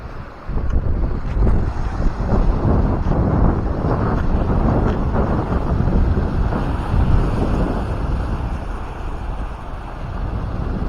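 Strong floodwater current with small waves in a flooded fishing area, under heavy wind that buffets the microphone with a constant loud rumbling roar and scattered splashes, with no voices.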